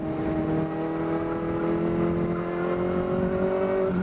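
A Kawasaki Ninja ZX-4RR sport motorcycle fitted with a 13-tooth front sprocket pulls hard, its engine note a steady high whine that climbs gradually in pitch under wind noise, with no talk.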